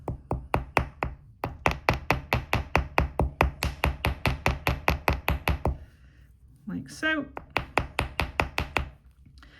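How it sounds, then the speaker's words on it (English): A hammer taps rapidly and steadily on shaped wire loops resting on a metal block, dozens of sharp even knocks in quick succession, a short pause, then another run of taps, with brief speech in between. "And again, just hammer the outside of the loops"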